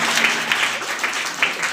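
Students at a coaching class send-off for graduating 12th-grade pupils clap together in a brief, dense burst of applause that stays steady and close from start to finish.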